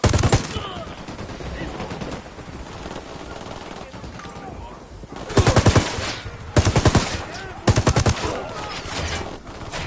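Rapid automatic gunfire in the Ghost Recon Wildlands video game, loud repeated bursts that start and stop, with quieter stretches of distant shots and ambient noise between them.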